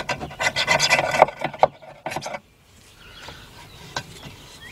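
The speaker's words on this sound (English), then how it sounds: "Gonna scrape that off. Make sure it's nice and clean around there." Old gasket material being scraped off the sealing surface of a 2002 BMW 745i 4.4 oil pan, a close rasping rub in quick strokes for about two seconds, then a quieter stretch with faint scrapes and one small tap.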